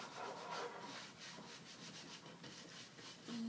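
Wax being rubbed by hand into a painted wood surface for a Swedish paint finish, a soft, close scrubbing sound with rhythmic back-and-forth strokes, no talk.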